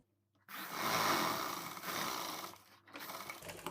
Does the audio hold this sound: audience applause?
no